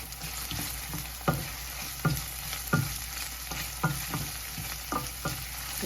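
Dried red chillies frying in a pan, a steady sizzle with a spatula scraping and stirring in regular strokes about once every second, close and clear with no talking.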